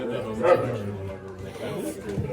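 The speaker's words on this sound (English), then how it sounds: "and this is my dog, Milo." Milo, a small pet dog, gives a short yappy bark or whimper up close, with people talking alongside.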